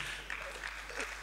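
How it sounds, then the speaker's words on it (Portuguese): An audience applauds in a dense, steady wash of clapping throughout a short moment, fairly loud and close, with voices faintly mixed in. "Eu estou dando mais uma salva de palmas bem forte"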